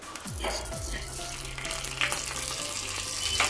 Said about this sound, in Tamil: நம்ம இப்போ இதில் உளுத்தம்பருப்பு போடுறோம்.